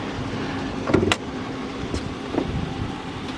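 A 2012 Dodge Charger police pursuit vehicle with a 5.7 HEMI V8 and rear-wheel drive is heard from inside while driving, giving a steady low engine and road rumble with a few soft clicks and bumps.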